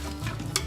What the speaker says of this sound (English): So we're going to give it a stir, try to equalize that more.